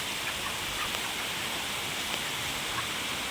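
Steady rain drums on the roof of a poultry shed housing broilers, a dense, even hiss of water close by with no talk and scattered faint taps rising from the wash.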